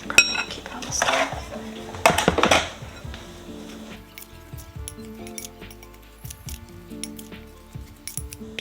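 Rhubarb stirred in a pot on the stove: two bursts of scraping and clinking utensil-on-pot sounds early on, followed by softer scattered clinks and taps, near and fairly loud.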